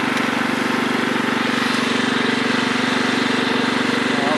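A 1996 Craftsman riding lawn mower engine runs steadily up close, a loud, even drone with a pulsing low hum and no break across the whole stretch.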